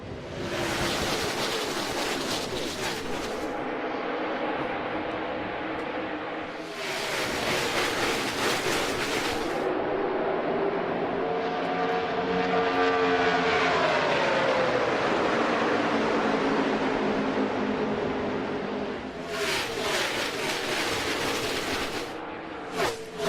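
NASCAR race cars on the Kansas Speedway oval, a dense, sustained engine roar as the field passes, swelling and fading with Doppler-like pitch sweeps in the middle, loud and continuous with bursts of broadband crowd-like noise.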